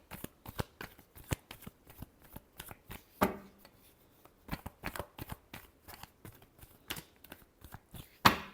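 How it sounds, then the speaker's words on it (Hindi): Tarot cards being shuffled by hand: a run of quick, crisp riffling bursts in an irregular rhythm with brief pauses, close and fairly quiet, with no talking over it. "Last shuffle."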